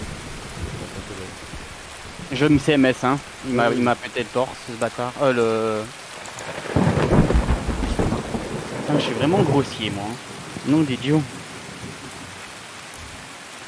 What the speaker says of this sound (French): mais il pleut, c'est chiant,